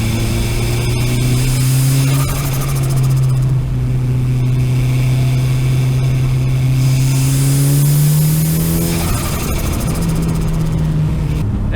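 A Mitsubishi Evo 6 in The Crew Motorfest, its engine droning at a steady pitch with a raspy exhaust, then easing off before climbing again, loud and close with no talk over it.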